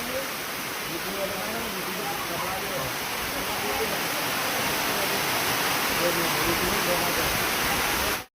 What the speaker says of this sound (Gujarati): અને અહીં વરસાદ પૂર જોશમાં ચાલુ છે.